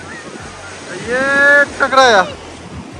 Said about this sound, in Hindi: ये लहर हमारे नजदीक आ रहा है, और ये हमारे पैर से टकराएगा